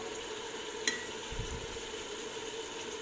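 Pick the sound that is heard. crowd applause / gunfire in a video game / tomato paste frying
tomato paste frying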